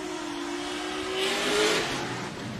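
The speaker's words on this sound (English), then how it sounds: "No turbo flutter here, just raw V8." A drift car's 500-horsepower LS3 V8 engine, with no turbo, revs at a distance during a competition run, a steady roar that swells briefly and fades, with no talk.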